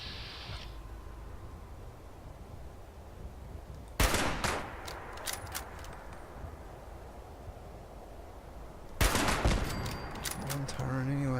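Minigun and turret fire in Fallout 76 at a super mutant camp, two sharp bursts of rattling gunfire cutting through a steady background hiss, fairly distant and faint.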